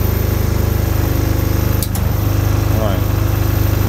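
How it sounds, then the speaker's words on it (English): A Myford ML7 lathe runs at its slowest gear with a steady, loud, close mechanical drone and regular rhythmic ticking, continuing throughout with only a brief clunk midway. "I'm going to turn the lathe on."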